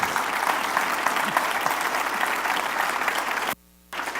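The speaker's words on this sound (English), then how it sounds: "Now, that does deserve an applause." Audience applause in a school district presentation, sustained dense clapping at a steady loud level before cutting out briefly near the end.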